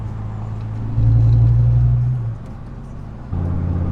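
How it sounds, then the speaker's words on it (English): A white 2005 Dodge Viper Commemorative Edition V10 with headers and a full Belanger catless exhaust rumbles close up at idle, swells into a deep throaty rev for about a second, drops back, then settles into a steady low burble. "Full Bellinger catless exhaust, and yeah, the pops and bangs and all the noises it makes are just spot on."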